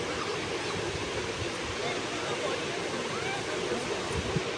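A waterfall in Sikkim roars as a steady, broadband rush of falling water that fills the whole scene, with faint voices underneath.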